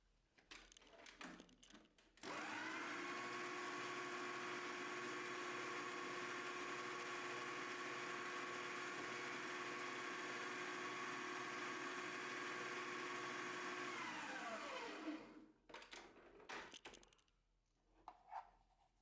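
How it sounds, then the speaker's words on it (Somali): An electric mixer runs steadily through mango cake batter for about twelve seconds, a constant loud motor whine, starting abruptly and winding down at the end, with brief clatter before and after. "Mar kale ayaan ku qaseynaa marka mishiinka xoogaa yar."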